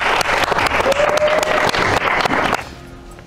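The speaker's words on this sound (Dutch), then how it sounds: "Applaus!" Loud burst of applause on a quiz show, dense clapping and crowd noise that drops off sharply near the end, leaving quiet room tone.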